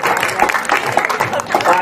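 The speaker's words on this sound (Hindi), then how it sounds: "एक बार जोरदार तालियां पुनः बजाइए।" A dense burst of applause from the audience at a Hindi kavi sammelan poetry gathering fills the brief moment, loud and close, with a voice mixed into the clapping.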